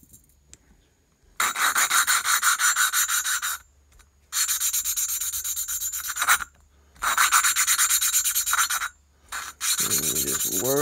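Rasping back-and-forth rubbing of a Tillotson 212R engine valve being lapped with a wooden suction-cup tool, in four long close bursts of rapid strokes separated by short pauses.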